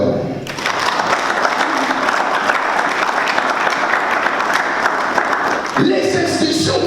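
A church congregation breaks into loud, sustained applause and acclaim, dense clapping mixed with crowd voices that rises quickly and holds for several seconds.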